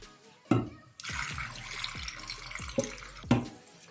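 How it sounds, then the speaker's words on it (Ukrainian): Tap water gushes and splashes steadily into a glass jar of cucumbers, with a few sharp clunks of glass along the way. "І заливаємо це все водичкою чистенькою."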